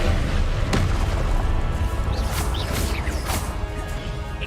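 Confringo blasting spells explode in the video game Hogwarts Legacy, heavy booms and smashing impacts with swooshes over a loud, constant rumble, no voices heard.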